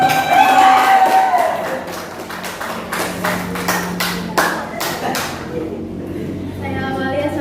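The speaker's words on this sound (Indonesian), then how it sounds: "Berikan tepuk tangan yang meriah untuk kelompok." Lively applause from a school audience of teachers greets group 3 as they come forward, dense clapping with some cheering that swells early, then fades toward the end under a lingering murmur of voices.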